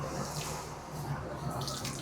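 A Kanchipuram silk saree is washed by hand in water with shampoo, heard as steady, close sloshing and swishing of water throughout, with no talking.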